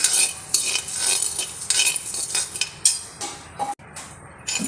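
A spoon scrapes and clinks steadily against a pan while little millet (samai) grains dry-roast, close-up, with quick irregular stirring strokes and no talking.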